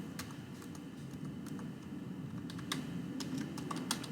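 Quiet typing on a computer keyboard, light irregular key clicks in short bursts over a soft background hum, with no talking.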